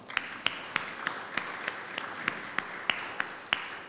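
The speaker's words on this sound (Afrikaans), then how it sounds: "kom ons gee sommer vir hulle 'n lekker hande klap" Rhythmic clapping during a church service, sharp evenly spaced claps over a wash of broader applause from a small congregation, moderately loud and steady.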